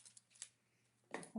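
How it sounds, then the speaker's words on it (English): Sharp trimming scissors snip through paper for a holiday card, a few quiet scattered cuts followed by a louder crisp pair of snips, close up in a hushed room. "I find that if I use a sharp, like trimming scissors, it cuts much easier for me."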